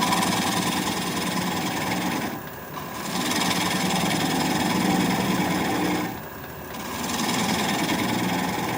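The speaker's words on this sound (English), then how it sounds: "So now I'm going to take a 3/8 inch swept back bowl gouge so I can get in a little closer." An oak bowl spins on a wood lathe while a 3/8 inch swept-back bowl gouge cuts it, giving a continuous droning whir that briefly dips twice, heard alone without talk.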